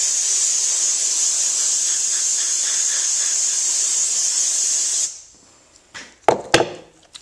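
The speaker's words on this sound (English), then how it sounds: "Just going to blow off the gun." Compressed air gun blasting to clean out a Cerakote spray gun and its cup after acetone, a steady loud high hiss for about five seconds, then cutting off to a few short clunks and handling knocks.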